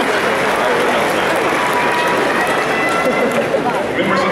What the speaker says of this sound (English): your congratulations can best be shown by simple applause